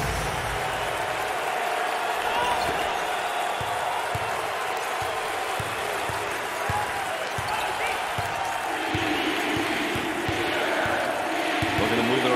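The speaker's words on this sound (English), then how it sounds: "Listen to the crowd. You can cut the intensity with a knife." Loud, steady crowd roar and cheering from fans packing the arena at a college basketball conference championship game, VCU against St. Bonaventure, filling the whole stretch with a constant wash of noise and rhythmic swells.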